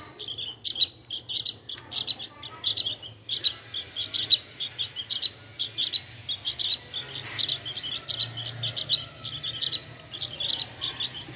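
Tame, hand-reared pet birds chirp and tweet in quick, bright bursts close by, continuous across the clip over a low background hum.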